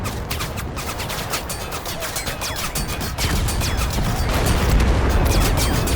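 Gunfire in the military shooter Total Conflict: Resistance: fast crackling bursts of automatic shots, loud and continuous, with a louder heavy rumble of weapons and blasts joining partway through.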